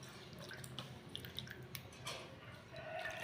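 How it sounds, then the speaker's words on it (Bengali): Freshly picked raw mangoes being washed in water, with soft continuous splashing, dripping and squishing close by, quiet and steady throughout. "আমি এই আমগুলোকে ভালো করে ধুয়ে নিচ্ছি"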